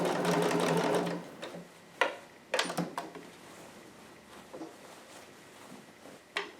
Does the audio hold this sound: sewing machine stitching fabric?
yes